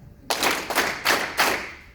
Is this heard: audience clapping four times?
yes